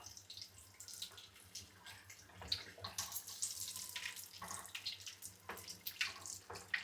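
Capsicum bajji frying in hot oil in a home kitchen, a steady crackling sizzle with bursts of spitting, heard close and moderately loud without talk.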